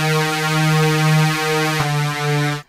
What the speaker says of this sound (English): Aggressive dubstep lead sound.